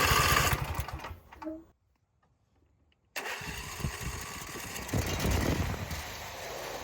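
A John Deere E100 riding mower engine with a freshly reassembled carburetor cranks and sputters, cuts out into a brief silence, then catches and runs roughly and loudly, close by.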